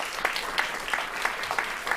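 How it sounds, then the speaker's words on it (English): Faint, sparse audience applause for farmer Klaus at a climate resilience and agriculture event, a few distinct claps in a loose rhythm over a soft background. "Round of applause for Klaus."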